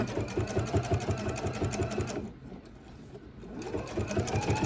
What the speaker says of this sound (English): And we're just going to top stitch around.